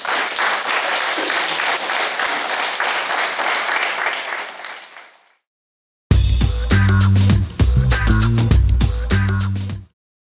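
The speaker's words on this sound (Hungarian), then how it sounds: "Erről árulkodott az előadást kísérő Taps is." An audience applauds after a children's musical performance, with dense, sustained clapping for about five seconds that fades out, followed by a gap and then loud instrumental music.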